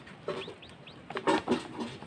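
A hen clucks softly near her six newly hatched chicks, whose thin high peeps rise over the low, close clucking in short bursts.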